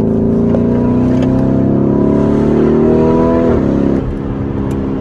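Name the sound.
turbocharger whoosh in sports SUV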